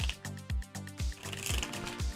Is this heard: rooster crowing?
no